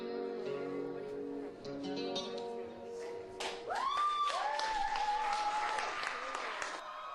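Canned crowd applause bursts in alone, a dense steady clatter of many hands that swells midway, overlaid with bright warbling tones and slightly phasey, hollow coloring.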